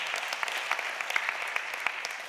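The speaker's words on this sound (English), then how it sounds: "give the Lord a hand clap of praise." A church congregation claps in praise during a worship service, steady scattered hand clapping at moderate level with a few sharper individual claps.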